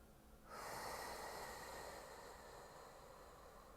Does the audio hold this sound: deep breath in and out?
yes